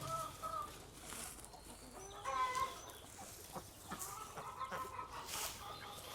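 Chickens cluck softly nearby, scattered short calls over quiet outdoor background, with faint farmyard noise between them.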